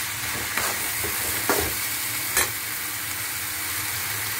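Chopped tomatoes dropped into a hot oiled pan with curry leaves, a steady close sizzle with a few brief louder bursts of frying and stirring, no voices.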